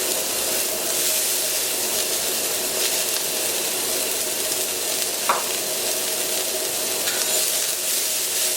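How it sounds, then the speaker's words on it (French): Vegetables for escabeche sweating in a hot pan, a steady close hiss of sizzling with one faint clink partway through, continuous and even, with no talking. "on va faire suer les légumes de l'escabèche"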